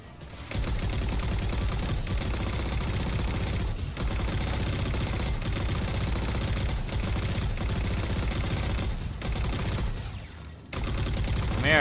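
Rapid, sustained automatic gunfire in the Halo 4 video game rattles close and loud in long bursts, broken by brief pauses.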